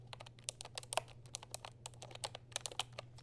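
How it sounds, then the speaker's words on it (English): Fingers tap quickly on a small keyboard paired with an iPad, producing rapid, irregular crisp clicks close up and fairly quiet over a low steady hum, with no talking. "I have a little keyboard to go along with it."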